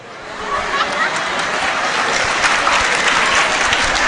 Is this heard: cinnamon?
no